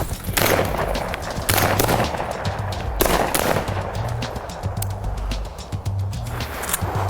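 Shotgun shots fired at quail during a South Carolina hunt, several loud sharp blasts spaced a second or two apart over continuous outdoor noise.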